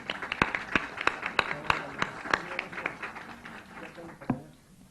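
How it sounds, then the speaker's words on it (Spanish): Sparse clapping from an audience at a parliamentary plenary session, a few distinct claps spread out and fading toward the end, with faint voices in the background. "Un aplauso a los dos"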